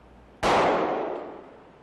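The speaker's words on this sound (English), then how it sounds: "By shooting this jacketed hollow point bullet into a block of ballistic gelatin, we can show how the bullet expands" A .40 caliber jacketed hollow point bullet fired into a block of ballistic gelatin, one sharp loud report followed by a long decaying ring.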